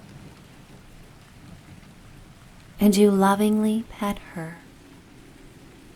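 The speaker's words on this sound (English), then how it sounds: "A clap of thunder ensues" Steady rain on a mountain night, with a continuous hiss that sits under a calm voice speaking for a couple of seconds and returns alone afterward; no distinct thunderclap stands out.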